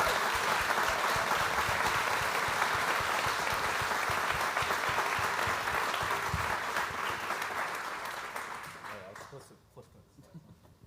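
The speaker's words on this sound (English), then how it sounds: "if I could have one round of applause for Noland, but also their family." An audience at a live presentation breaks into sustained applause, loud and dense for several seconds before tapering off into quiet.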